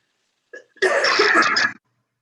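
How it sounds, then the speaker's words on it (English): A single short, harsh burst from one person, close and loud, preceded by a brief intake of breath. "You can cough as much as you like."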